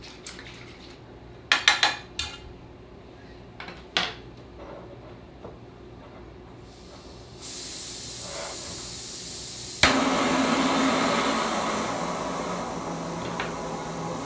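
Apple cobbler simmering in a pot on a camp stove is stirred, giving a few clustered metallic clinks and knocks early on, followed by a steady rising hiss, like the burner or steam, that carries on to the end.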